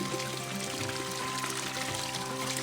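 Water pouring steadily from a household tap, a continuous close splashing stream with a faint hum underneath, running alone without pause.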